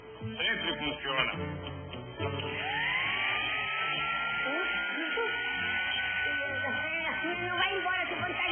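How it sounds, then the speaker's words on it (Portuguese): A vacuum cleaner in a Woody Woodpecker cartoon whirs up to a steady high-pitched drone and keeps running, after a short burst of cartoon voices and music at the start. "Esse é o velho truque do aspirador."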